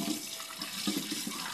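Tap water runs into a sink during dishwashing, a soft, brief, continuous hiss and splash heard close by with faint clatter of dishes.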